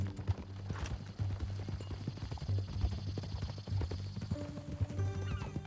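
Steady clip-clop of horse hooves walking at an even pace in the video game Red Dead Redemption 2, fairly close, with a brief whinny and faint background ambience.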